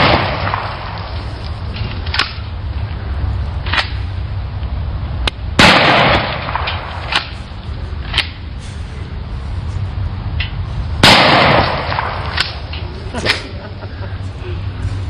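A 12-gauge shotgun firing at stacks of CDs: several loud, sharp blasts spaced a few seconds apart, each with a quick decaying crack, over a steady background rumble.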